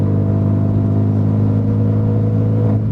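A Renault Megane 3 RS Red Bull edition pulls in sixth gear, its turbocharged engine droning loud and steady with a deep, even hum heard from inside the cabin, easing off slightly at the very end.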